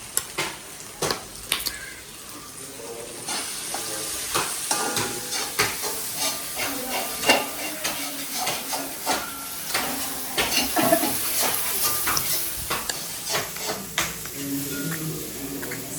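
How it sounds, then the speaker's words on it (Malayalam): Onions and tomatoes sautéing in a pan for chicken curry, a continuous sizzle broken by repeated scraping and clattering stirs of a utensil against the pan, close and fairly loud. "അപ്പുറത്ത് ചിക്കനിലേക്കുള്ള സവാളയും തക്കാളിയൊക്കെ വഴറ്റിക്കൊണ്ടിരിക്കുകയാണ്"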